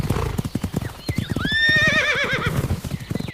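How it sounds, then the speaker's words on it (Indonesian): A horse gives a loud, wavering whinny in the middle, surrounded by quick, rhythmic clip-clop of hooves before and after, close and clear with no talking. "seekor kuda"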